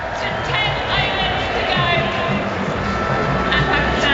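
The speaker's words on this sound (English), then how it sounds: "Crowd have been noisy all day." A noisy crowd at an England v Pakistan T20 cricket match fills the air with a continuous dense hubbub of chatter and shouts, loud and steady throughout.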